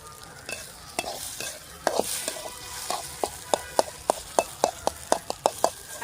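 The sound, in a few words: stirring goat brain fry in pan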